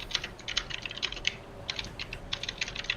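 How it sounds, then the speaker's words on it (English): Quick bursts of crisp clicking come from a mechanical keyboard with blue switches, in irregular clusters of keystrokes, close and alone without talk. "Who's going to war with their keyboard? Oh, I got blue switches."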